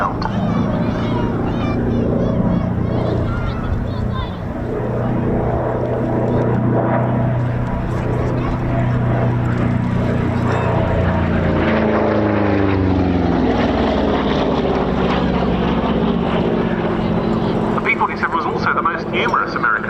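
A World War II American propeller fighter flies at the Cosford air show, the piston engine roaring loud and close, its pitch sweeping as it passes, while a public-address commentator talks over it.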